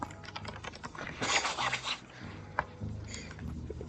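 Computer keyboard arrow keys are pressed during a game of Anodyne, producing a rapid series of close, chunky clacks that come in bursts and irregular clusters.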